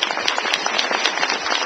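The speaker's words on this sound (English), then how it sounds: "So let's give a round of applause." An audience at an education innovator awards presentation applauds, a dense wash of many hands clapping together, steady and fairly loud for under two seconds.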